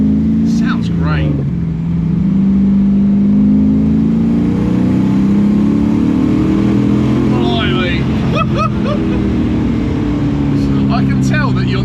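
A Volvo 242 fitted with a Corvette LS V8 engine revs loudly and up close, the deep engine note climbing and falling in quick blips while it idles between them, with people talking over it.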